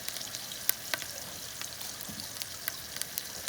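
Lobster with ginger and thyme grills gently over low heat in a pan, giving a steady close sizzle with scattered crackles and pops.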